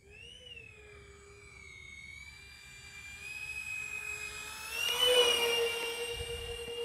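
Electric motors of an RC Airbus model plane with differential thrust, flaps down into a headwind, give a steady whining drone with rising pitch that swells louder near the end.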